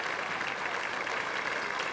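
Steady applause from a crowd at a bowling world cup final, a dense even patter of clapping that fills the space at moderate loudness without pause, with no voices rising above it.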